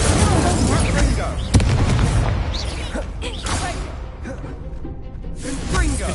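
An Incendio fire spell is cast in Hogwarts Legacy, a loud booming burst with a whooshing blast and rumbling mechanical effects that fade into game sounds.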